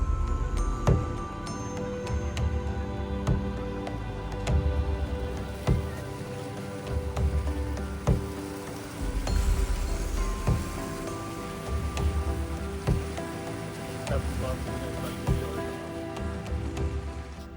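Steady rain patters on surfaces nearby on a mountain road through the Khyber Pass, with scattered louder drips and taps over a constant wash of noise, no voices.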